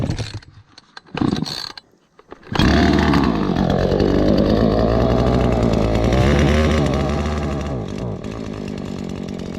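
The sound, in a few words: chainsaw engine started and running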